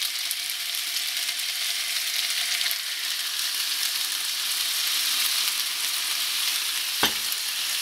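Steady sizzling of squid frying in a pan, a continuous crackling hiss with a brief clatter near the end.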